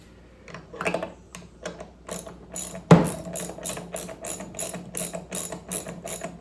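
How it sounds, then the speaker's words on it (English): A hand ratchet clicks in repeated short bursts while tightening a bolt on a toilet motor bracket, close and crisp with one sharper clunk partway through. "I'll get my ratchet, set it for"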